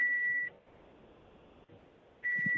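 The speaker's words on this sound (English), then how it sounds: "I heard some beep" Two steady electronic tones on a phone call, each a clean, loud half-second beep with a stretch of quiet line hiss between them.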